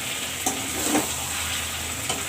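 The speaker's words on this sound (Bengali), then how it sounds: "দেখো এই মশলা থেকে তেল ছেড়ে দিয়েছে আর মশলাটাও শুকনো শুকনো করে পুরো ভাজা হয়ে গেছে" Spice masala sizzles steadily in hot oil while being stirred, with scraping stir strokes over a continuous close frying hiss and no voices.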